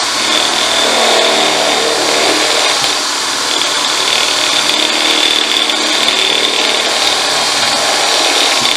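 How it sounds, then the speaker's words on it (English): Stepped drill bit boring a hole through a motorbike fuel tank in a workshop, a loud continuous whining, grinding drone that runs steadily for several seconds without pause, close by and with no talking. "And I'm using one of these stepped drills."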